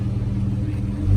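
Low, steady rumble of a V6 car exhaust fitted with a Flowmaster Super Series 10 muffler, idling or cruising close by at a Mopar festival, with a brief swell at the very end.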